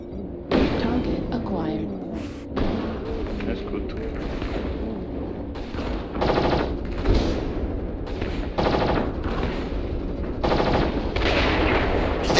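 Machine gun fire from a Piranha mech in MechWarrior Online: a steady, loud stream of rapid automatic shots with booming impacts, nearly continuous, while someone talks over it.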